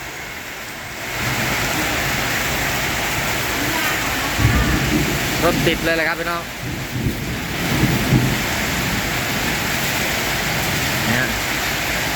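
Steady heavy tropical-depression rain roars throughout, with a low rumble of thunder partway through; someone talks over the downpour.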